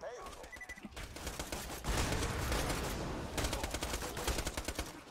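Rapid gunfire in Borderlands 2, loud bursts of shots in quick succession with a short lull, then more clattering rounds, mixed with game effects.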